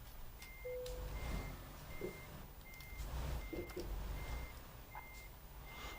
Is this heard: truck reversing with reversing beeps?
yes